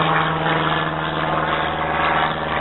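Continuous loud propeller drone of an RC airplane passing overhead after an aileron roll, steady and close, without talk.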